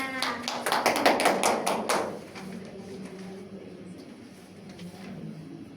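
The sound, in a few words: applause for classmates in a classroom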